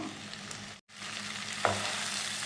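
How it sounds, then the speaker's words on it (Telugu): Prawns for pulao fry and are stirred in a pan, giving a quiet, steady sizzle throughout with a brief gap and a scrape of the spoon, and no talk. "మొత్తం అంతా కూడా ఒకసారి ఇలా ఫ్రై చేసుకుందాం"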